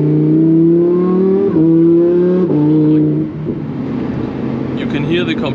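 An 850 hp twin-turbo Lamborghini Huracan Performante accelerates hard in loud, rising surges broken by brief cuts between them, followed by blow-off chatter and crackle, with engine noise dominating throughout.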